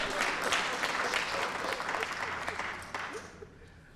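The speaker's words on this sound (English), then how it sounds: "Just give me a mercy applause so I can collect my thoughts." Audience applauding at an outdoor steps dedication ceremony, a full burst of clapping that gradually thins and fades toward the end, with faint voices beneath.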